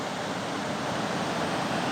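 Broad steady rush of the River Indus in Pakistan flowing downstream, a continuous, even wash of water noise with no voices.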